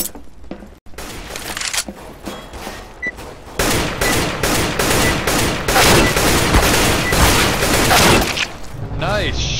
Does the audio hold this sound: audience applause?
no